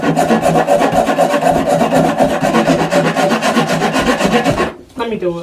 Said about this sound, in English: Yep, you said you wanted to sand it.